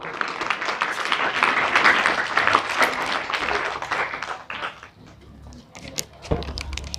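Audience clapping to welcome a schoolgirl, a second-grade student, to the stand at a school event: a dense burst of applause for about five seconds that thins into scattered claps near the end.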